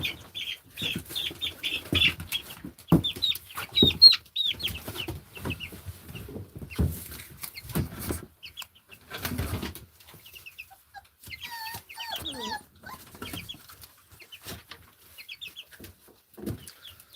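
Chicks cheep and peep near puppies, with busy bursts of chirping and scratchy shuffling close by, alone and with no voices.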